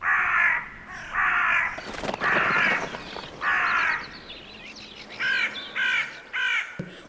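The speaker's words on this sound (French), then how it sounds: "des volées de corbeaux sont arrivés des 4 vents du ciel" Crows caw again and again in loud, harsh bursts, some single and some in quick runs of three, filling the air as if a large flock has gathered close by.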